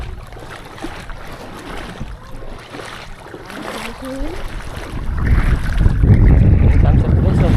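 A boat's engine rumbles and builds louder over rushing wind and water near Patayan Island, Pagbilao, Quezon, with a voice speaking briefly in the middle.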